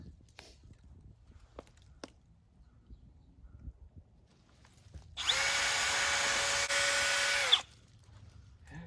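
A drill bit bores a tap hole into a backyard maple tree, a steady, loud whirring whine lasting about two and a half seconds, preceded by quiet scattered clicks and handling noises.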